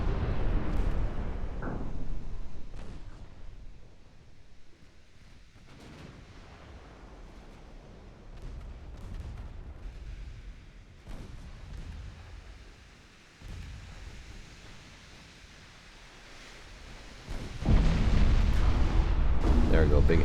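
Naval gunfire and shell hits in a 1913-era battleship strategy game, with rumbling booms and splashing impacts spread through the clip and a heavy, loud burst of explosions near the end.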